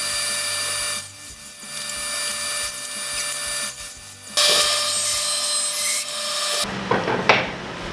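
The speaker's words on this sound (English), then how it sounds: "We've set the fence to about 1/8 of an inch, and we're gonna rip really thin pieces." Table saw ripping thin wood strips about 1/8 inch thick against the fence: a whining motor hum with rasping cuts in bursts, ending in a louder rough pass, no talk.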